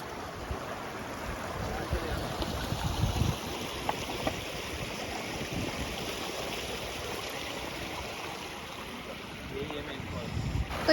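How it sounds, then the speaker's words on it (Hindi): Water from Dainthlen Falls near Cherrapunji rushes steadily downward in a broad, constant roar, with wind buffeting the microphone and faint voices blending into the wash. "तो यही है फॉल, इसका पानी जा रहा है नीचे"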